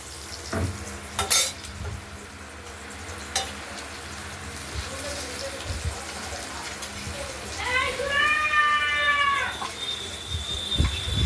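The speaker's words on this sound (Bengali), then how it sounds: "পনিরটা আমরা ভেজে নিচ্ছি" Paneer cubes frying in oil in a pan for a spicy paneer and potato curry, a soft continuous sizzle with occasional utensil knocks and a brief high-pitched squeal near the end.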